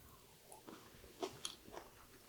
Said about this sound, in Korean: 당근 채를 썰어서 해 놓은 거를 또 먹어보도록 할게요.